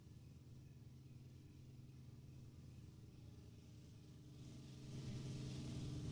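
A locomotive approaches in the Run8 train simulator, starting as a faint, distant low rumble that swells noticeably louder over the last second or so, with no voices.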